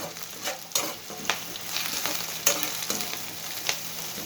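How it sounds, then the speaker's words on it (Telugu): Dried red chillies and peanuts dry roasting in a pan with no oil, giving soft scraping stirs with occasional louder clacks of the spoon against the pan over a faint steady rustle. "ఈ వేరుశనగ గుళ్ళతో పాటు వేపండి. నూనె వేయొద్దు, వేటిల్లో డ్రైగా ఎంచాలి."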